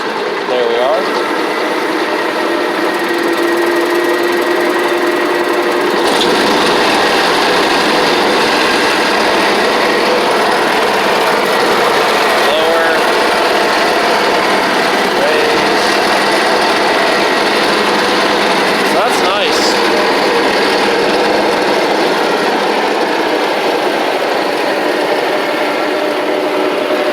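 A 1981 Allis Chalmers 916 hydro garden tractor engine runs steadily nearby, a constant loud drone that rises a bit in intensity partway through, with someone talking over it.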